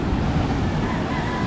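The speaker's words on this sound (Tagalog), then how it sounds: "Right, dito tayo sa dagat mga kabansot." Sea waves at a beach, a steady loud wash of surf blended with wind buffeting the microphone, no talking.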